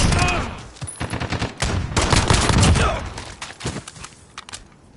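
Rapid submachine gun fire in Call of Duty: Modern Warfare Season 2, loud dense bursts of automatic shots with brief pauses, running for several seconds and tapering off toward the end.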